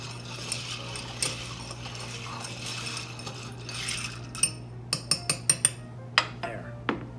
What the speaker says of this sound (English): stirring spoon, and we're going to stir this for 20 seconds